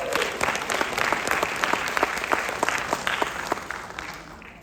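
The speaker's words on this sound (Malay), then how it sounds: "kita bagi MK Wong satu tepukan kuat" An audience at a business event bursts into strong, sustained applause, dense clapping at full volume that tapers slightly toward the end.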